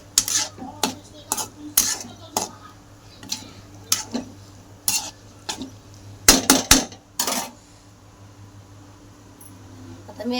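Spoon stirring biryani masala in a cooking pot, scraping and clinking against the metal in scattered short bursts of varying loudness, close by, with no talk.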